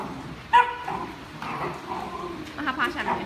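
A dog gives one sharp, close bark, then soft whimpers and yips during a belly rub, with a person talking over it.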